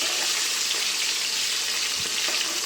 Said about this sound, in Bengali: মাছগুলো সব ভেজে রাখছি।